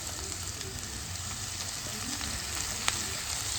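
Steady, dense sizzling of crushed shallots frying in a hot pan for chicken uppukari, with an occasional small pop and faint stirring; no voices.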